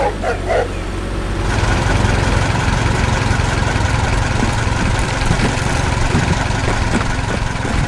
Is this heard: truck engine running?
yes